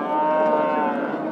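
A cow at a cattle market in Beshariq lets out one long, loud, sustained moo that fills the whole moment, close by and steady from start to finish, with no talk over it.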